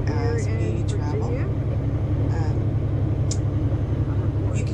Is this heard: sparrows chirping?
no